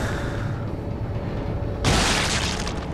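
A loud, sudden blast erupts in the Resistance 2 shooter on PS3, a broadband burst about two-thirds through that follows a steady droning game ambience and lingers as a dense roar.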